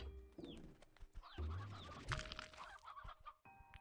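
Chickens in the video game Slime Rancher 2, clucking in quick bursts and short squawks, soft and close, over low game sounds and tones, with no speech.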